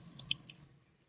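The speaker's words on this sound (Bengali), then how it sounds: "তো এখন পোস্তটা আমি ভালোভাবে ধুয়ে নিচ্ছি" Poppy seeds rinsed in water, a brief close splash with a couple of bright drips near the start, then a fading trickle.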